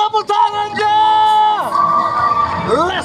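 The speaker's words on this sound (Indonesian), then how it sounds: "MPL Arena, minta tepuk tangannya." An arena crowd cheers loudly at an MPL Indonesia Season 14 regular-season esports match, Fnatic Onic versus Alter Ego, with sustained whoops and shouts that rise and hold over a few seconds.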